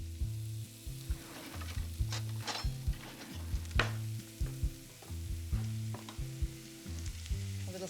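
Salmon and vegetables sizzle in a frying pan with a constant hiss, joined by a few utensil scrapes and clinks and a steady pulsing low hum running underneath; nobody speaks.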